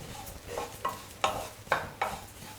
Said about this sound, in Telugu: ఈ ఆయిల్ వేసి పచ్చిమిర్చి జీలకర్ర వేపుదాం